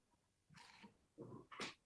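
A faint, distant sneeze in a watercolor painting studio: a breathy intake followed by two sharp bursts, the last the strongest, over a quiet room.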